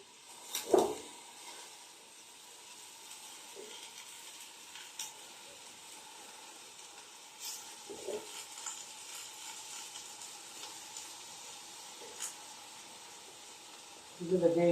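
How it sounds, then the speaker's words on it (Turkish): A faint, steady sizzle of onions frying in a pan for Turkish su böreği, with occasional soft clinks and stirring sounds. "Soğanımız bizde biraz böyle kavrulacak."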